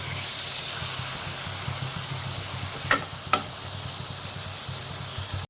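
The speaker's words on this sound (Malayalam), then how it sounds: "ഈ ഉള്ളിയെല്ലാം നല്ലോണം വഴന്ന് വന്നിട്ടുണ്ട്" Onions sauté in a pan for Kerala-style prawn biryani, giving a steady, even sizzle close by, broken midway by two sharp clicks of a utensil, with no talking.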